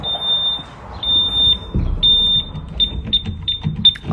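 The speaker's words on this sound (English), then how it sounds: "I'm gonna check the alarm" A workplace alarm panel emits a steady high-pitched electronic beep, then a series of repeated short beeps, close and fairly loud, with rustling and handling noise underneath.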